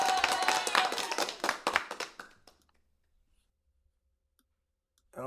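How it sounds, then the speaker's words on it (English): A short burst of close, crisp clapping plays for about two seconds, then cuts off abruptly into near silence. "Can we get an applause?"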